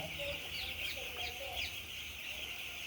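Chickens cluck and chirp close by on a poultry farm, a busy overlapping chorus of short calls over a steady background hum.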